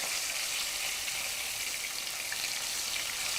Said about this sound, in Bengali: একটা পাশ ভাজা হয়ে গেছে, আমি সাবধানে মাছগুলোকে উল্টে দিচ্ছি।